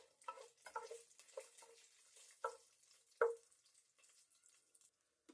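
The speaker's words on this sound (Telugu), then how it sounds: "అలాగే ఇప్పుడు ఇందులోకి కొన్ని జీడిపప్పు కూడా యాడ్ చేసుకొని వీటిని బాగా ఫ్రై చేసుకోవాలి." Cashews and whole spices fry quietly in a pan, with soft crackles and a few scattered pops and taps from stirring, including one sharper click, heard faintly and close.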